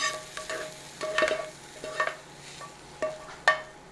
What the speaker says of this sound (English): Okay, we're ready to mix the onion in.